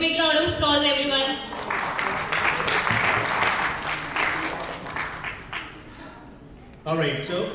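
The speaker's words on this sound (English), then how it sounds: "Give a big round of applause" Audience applause at a company's annual celebration award ceremony, a dense wash of many hands clapping that swells for several seconds and then fades, with voices talking at the start and again at the end.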